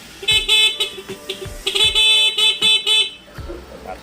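A 2000 Yamaha TZR150 motorcycle horn beeps in a series of short bursts with a few longer presses, loud and close, with the engine running underneath.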